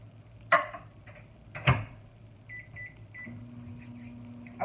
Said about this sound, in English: So I'm going to melt my butter first